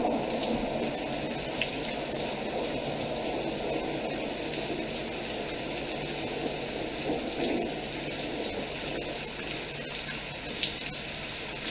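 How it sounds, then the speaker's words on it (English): Steady rain pattering across a surface, a continuous wash of drops with no talking, fairly even in loudness throughout. "The tracks are very slippery from all this rain"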